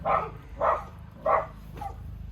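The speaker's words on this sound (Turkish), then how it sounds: "Buraya ne olur Tarık üç köpek karşıda iki köpek de burada Beş köpek var iki evde." Three sharp dog barks come in a loose rhythm, followed by a softer fourth, fairly close over a low background hum.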